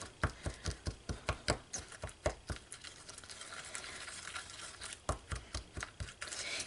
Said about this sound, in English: I'm just going to mix this up together